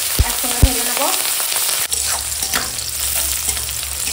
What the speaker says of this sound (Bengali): ওই তেলেই এখন দিয়ে দেবো পেঁয়াজ, কাঁচা লঙ্কা, একসঙ্গে ভেজে নেবো